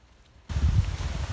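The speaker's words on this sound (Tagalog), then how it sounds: "Hanggang ngayon, umuulan pa rin." Heavy morning rain falls outdoors in a flooded rural province, bursting in suddenly after a near-silent half second as a loud, dense, steady hiss that holds to the end.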